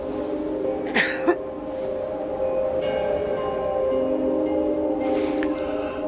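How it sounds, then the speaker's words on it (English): A man in the video game Hitman 3 coughs twice in quick succession when a doctor asks him to, short and close over a steady low hum of game ambience. "Cough, please."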